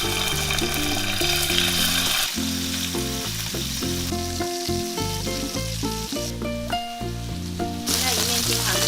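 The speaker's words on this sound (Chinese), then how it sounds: "平底锅加入适量油， 把鸡翅膀放下来煎" Marinated chicken mid-wings frying in oil in a flat pan give a steady, continuous sizzle that sits under loud background music throughout.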